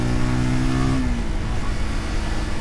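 A Zontes G1 125 X motorcycle riding through traffic in Belgrade, its engine droning loudly and steadily with a pitch that shifts and drops as the revs change, heard up close from the rider's position.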